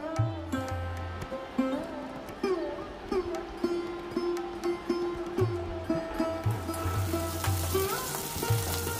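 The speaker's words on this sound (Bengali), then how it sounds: "ডুমুর ও আলু ভাজা হয়ে গেছে" Figs and potatoes frying in a pan for a Bengali curry make a close sizzling hiss, heard beneath a prominent tonal, musical background.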